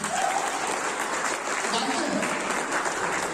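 A seated crowd at a Sunday closing sales meeting applauds, a steady wash of clapping with a voice faintly underneath.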